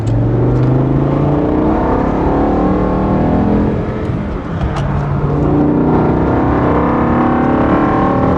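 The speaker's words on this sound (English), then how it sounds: "That's why I traveled so far to hear that V10 induction noise." A BMW M5 with its V10 engine accelerates hard on a highway, induction and engine roar loud and continuous from inside the car, the pitch climbing through gears with a brief dip as it shifts.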